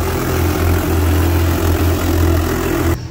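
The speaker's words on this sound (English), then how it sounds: "let that go ahead and warm up and get those engines up to temperature" Big boat outboard engines idle while warming up, a steady loud rumble that cuts off abruptly near the end.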